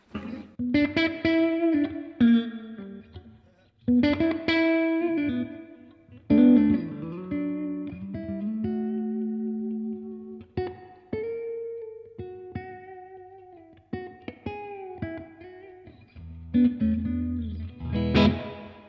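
An electric guitar plays chords and single notes through a Blackstar TV-10 amp with reverb turned up full, each phrase ringing out and decaying into a long wash.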